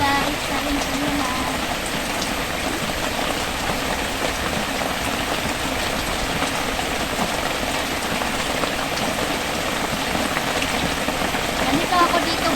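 Steady rain pours down outdoors, a dense continuous hiss of drops striking surfaces at an even loudness throughout with no pauses.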